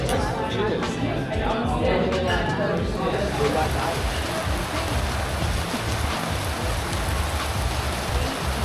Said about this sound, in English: it starts bucketing down